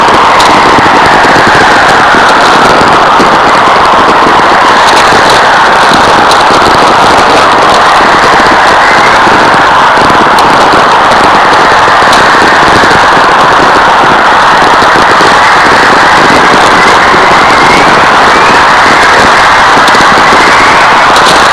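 Natural radio whistlers recorded in the wild by Stephen McGreevy at Grass River Provincial Park: a loud, continuous hissing static wash, with a faint falling whistle tone sweeping slowly through it.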